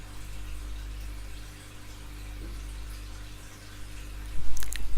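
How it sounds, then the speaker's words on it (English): Water from two fish tanks in a living room, a low continuous trickle and pump hum with faint splashes, steady and fairly quiet throughout, with a brief louder bump near the end. "it's because I'm sitting in my living room with 2 fish tanks."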